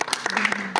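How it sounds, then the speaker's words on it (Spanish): A few people clapping in quick bursts on a music video set, brief and close, with voices mixed in. "Un aplauso para Kami, por favor"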